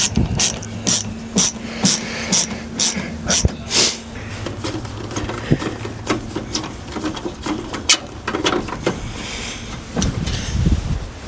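Screws being tightened on a Traeger Ironwood grill panel give a run of sharp, close ratcheting clicks in quick bursts, then scattered mechanical clatter and handling noise.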